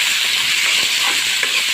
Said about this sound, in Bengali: তো আমার পেঁয়াজটা একটু ভাজা ভাজা হয়েছে